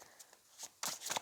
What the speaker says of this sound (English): Oh, that's my bad shuffling.